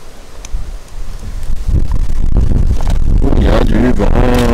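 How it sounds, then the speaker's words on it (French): Wind gusting outdoors during assembly of a Sherman model, rising from a moderate rush to loud, steady buffeting against the microphone, with brief rustling and a faint whistle near the end. "Il y a du vent."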